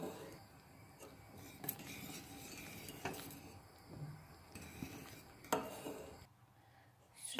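A spoon stirs rice pudding thickened with starch in a pot, with quick faint scraping and occasional light clinks against the metal, close and soft under a quiet room hiss, no talk.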